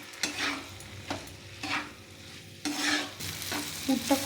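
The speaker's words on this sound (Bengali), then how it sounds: "পুরটা খুব ভালোভাবে ভেজে নিয়েছি" A paneer filling seasoned with garam masala, for stuffing pointed gourd, fries in a pan with a soft hiss under regular, evenly spaced spatula strokes scraping across the pan, heard up close.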